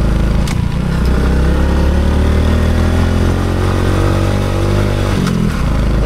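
Motorcycle engine laboring loudly and steadily as it climbs a very steep mountain trail on the Tacadang Crying Mountains ride, with a sustained rumble rising and falling in pitch under throttle, close and continuous throughout.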